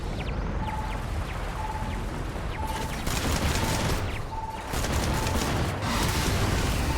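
Explosions in the space game Starfield, played on very hard mode, sound as a dense, continuous barrage of booms and crackling blasts with repeated heavier bursts and a recurring faint electronic tone.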